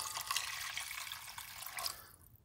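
Water pours in a steady splashing stream into a pot while cooking Puerto Rican rice, close and continuous before tapering off at the end.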